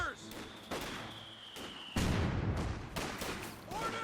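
Scattered gunfire and mortar blasts from a Company of Heroes 2 1v1 match, with a heavy thump near the two-second mark and sporadic shots over a steady battle din, voices talking faintly underneath.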